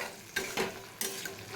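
Pointed gourd curry is being sautéed over low gas, with three sharp scraping stir strokes of a spatula against the pan over a soft, steady sizzle, close and alone.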